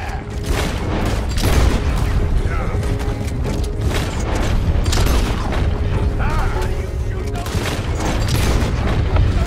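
Gunfire erupts in a stagecoach robbery in the video game Red Dead Redemption 2: loud, repeated shots and booming bursts come in quick succession over creaking, rattling mechanical noise for several seconds.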